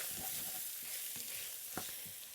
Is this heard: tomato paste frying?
yes